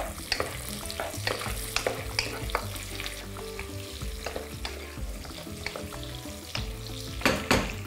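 Quince pieces fry in a pan with lamb sauce cooking, a continuous close sizzle broken by frequent scraping and clinking stirs of a utensil against the pan.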